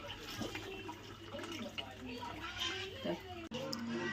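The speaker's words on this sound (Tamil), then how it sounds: "இது வந்து நார்மல் வாட்டர் வந்து ஊற்றிக்கலாம்" Tap water poured over drained cooked rice, a close, steady splashing flow running underneath someone speaking throughout.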